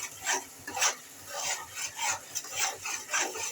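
Spice paste being fried and stirred in a pan for a rohu and potato fish curry, with repeated scraping, rasping strokes of a spatula at a steady rhythm, fairly close and moderately loud with no talking.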